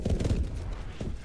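Bursts of rapid gunfire rattle close and loud in the futuristic shooter game Call of Duty: Advanced Warfare, a dense low-pitched fusillade with little pause and no speech over it.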